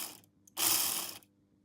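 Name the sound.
Piko Škoda E499 HO scale model locomotive motor running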